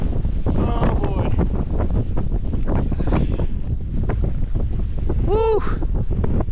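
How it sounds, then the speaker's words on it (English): Strong wind buffeting a microphone on a mountain ridge during a ski ascent of Mt. Yale's east ridge, a constant loud roar throughout with brief faint voices in the gusts. "Yeah, that's windy"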